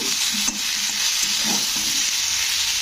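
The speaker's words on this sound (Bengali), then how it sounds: "লবণটা দিয়ে একটু নাড়াচাড়া করে দিচ্ছি" Vegetables frying for Bengali neem shukto sizzle steadily in a pan as a spatula stirs and scrapes in a few soft strokes, the hiss loud and continuous throughout.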